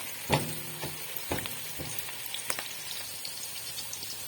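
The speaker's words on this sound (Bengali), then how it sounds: "আর এখন পেঁয়াজ ভাজছি" Onions fry in a pan with a soft, continuous sizzle, broken by a few sharp utensil taps and stirring knocks near the start, with no one speaking.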